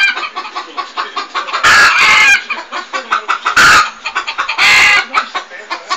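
An agitated chicken clucking rapidly up close, with three louder squawking bursts breaking through the steady stream of clucks.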